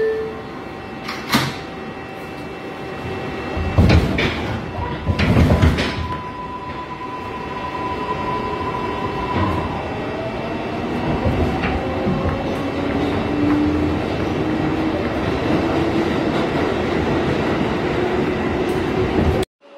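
A Woodlawn-bound IRT 6 subway train in New York rumbles steadily on board with continuous loud track roar, a few sharp clanks and squeals early on, and brief tonal hums from the car.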